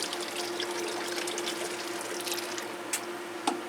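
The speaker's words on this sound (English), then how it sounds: "So we'll put some hot water in this" A steady stream of hot water pours continuously into a container of reverse-osmosis water, with a couple of faint clinks near the end.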